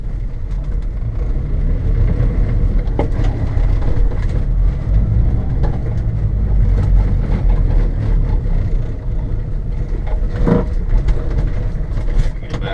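Japanese mini truck driving off-road, a steady low engine drone with rumbling and rattling from the bumpy ground, close and constant throughout with occasional clunks.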